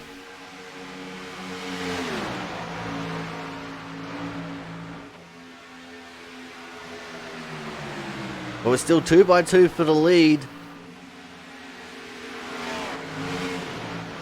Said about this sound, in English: We can hear his engine in some of the cameras.